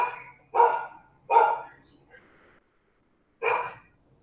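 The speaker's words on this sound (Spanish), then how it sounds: "Ese perro." A dog barks three times in short, loud bursts, with a quieter fourth yelp trailing the second and a pause before the last bark.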